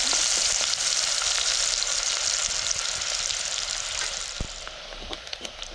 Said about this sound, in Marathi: कांदा आपल्याला चांगला परतून घ्यायचा